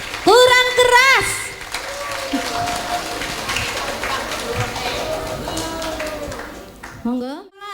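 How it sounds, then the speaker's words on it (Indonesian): Audience applause fills a khataman and imtihan graduation ceremony at an Islamic school in Slawi: steady, dense clapping from a crowd that runs for several seconds, with voices and a brief sung or spoken phrase at the start and end. "Masya Allah, tepuk tangan."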